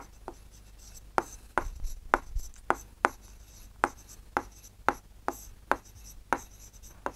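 A pencil compass sweeps arcs across paper, making a series of sharp, close scratches that come at fairly regular intervals. The sound is quiet and no one speaks over it.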